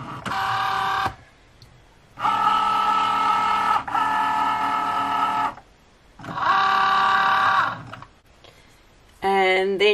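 A Cricut Joy cutting machine slices premium vinyl with a close, whirring motor that runs in repeated bursts of several seconds, separated by brief quiet pauses, ending with a quick rising mechanical whine.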